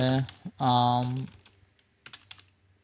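A computer keyboard being typed on: a few light, quick keystroke clicks follow a brief stretch of someone speaking.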